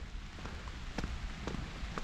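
Faint, steady rain pattering on leaves in an avocado orchard during dry-season rain, with occasional distinct drops ticking close by over a soft hiss.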